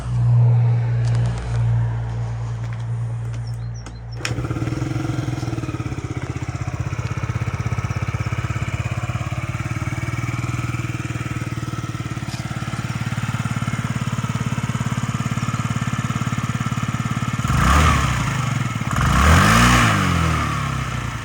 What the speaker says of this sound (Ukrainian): Чистенько, тихенько працює двигун.